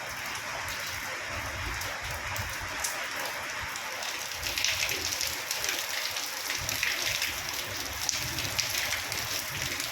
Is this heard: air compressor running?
no